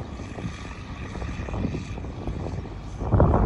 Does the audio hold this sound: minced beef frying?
no